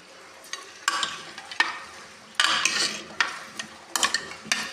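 Mutton masala sizzles in a pan while it is stirred, with a low background fry broken by repeated sharp bursts of scraping and hissing at each stroke.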